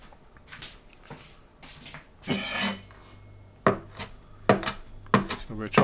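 A knife chops fresh parsley leaves on a board in a run of irregular, close strikes, with a brief scraping rasp partway through as the leaves are gathered.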